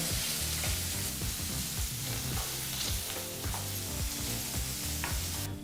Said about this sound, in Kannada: ಈ ರೀತಿ ಭಾಳ ಚಿಕ್ಕ ಕಟ್ ಮಾಡಿದಂಥ ಒಂದು ಈರುಳ್ಳಿನೂ ಸಹ ಹಾಕಿ ಎರಡರಿಂದ ಮೂರು ನಿಮಿಷಗಳ ಕಾಲ ಮೀಡಿಯಂ ಫ್ಲೇಮ್ನಲ್ಲೇ ಇದನ್ನೆಲ್ಲ ಫ್ರೈ ಮಾಡ್ಕೋಬೇಕಾಗತ್ತೆ